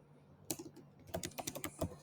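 Quick bursts of typing on a computer keyboard while code is written, crisp close key clicks in an uneven run with short pauses, no talk.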